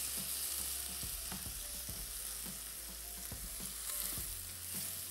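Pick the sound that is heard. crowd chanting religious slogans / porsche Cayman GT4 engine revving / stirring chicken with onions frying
stirring chicken with onions frying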